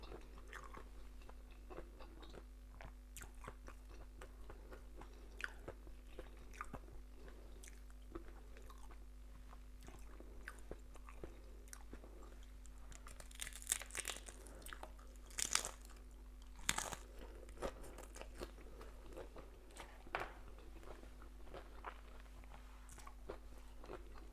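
Someone bites into a crispy spiced taco, close, sharp crunches scattered over a long stretch, louder bites near the middle, over a steady low hum.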